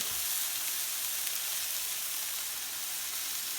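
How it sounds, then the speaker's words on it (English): Steaks sizzling in a pan during a brandy flambé, a steady, dense, close frying hiss with no pauses. "just doing a quick flambe. These beautiful steaks, looking good."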